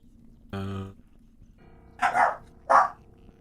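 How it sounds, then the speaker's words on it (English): A dog gives three quick, fairly close barks: a tonal yelp first, then two sharper, harsher barks after a short pause, against a quiet background. "There's a dog."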